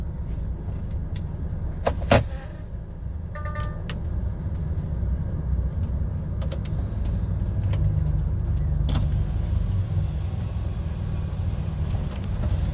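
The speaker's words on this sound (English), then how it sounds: "I'm gonna spin it round and reverse down." Low, steady engine drone of an HGV lorry reversing during a tight manoeuvre, constant and near throughout, with a few brief clicks and knocks on top.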